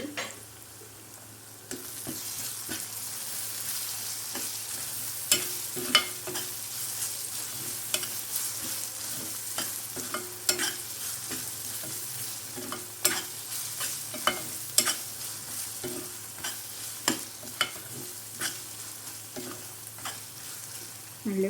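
Onions and ginger garlic paste frying in a pan for a raw prawn and green mango curry, with a steady close sizzle broken by frequent scraping stirs and clicks.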